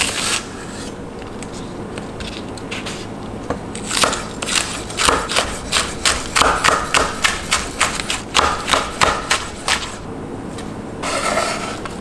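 Knife chopping scallions on a cutting board: a steady run of close, crisp thuds and taps, quickening into a rapid rhythmic sequence in the middle before slowing, with no talking.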